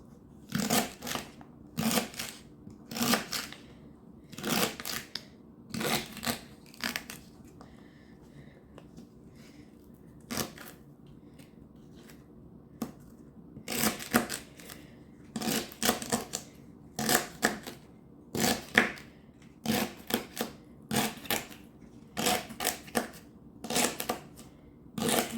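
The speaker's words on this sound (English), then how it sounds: "Once I get done chopping this up" Celery is chopped with a knife on a cutting board in a home kitchen, giving sharp, irregular knocks in quick clusters with brief pauses, close and clear.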